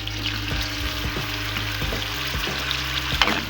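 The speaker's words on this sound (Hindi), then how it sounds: "तो देखें ऑयल गरम हो गया है, इसमें हम ये गोश्त डाल देंगे" Boiled mutton dropped into hot oil in a karahi for Charsi karahi, a loud steady sizzle with stirring scrapes and clinks throughout, no talking.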